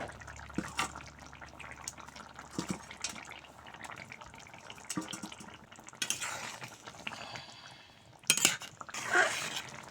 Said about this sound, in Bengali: ঝোল ফুটিয়ে নিয়েছি, এখন দিয়ে দেবো ভেজে রাখা মাছ।